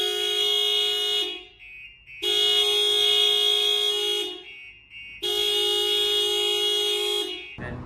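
Three long, loud blasts of a car horn in steady succession, each lasting over a second with brief pauses, sounding close, triggered by a StarLine E96 alarm system on a 2021 Toyota RAV4.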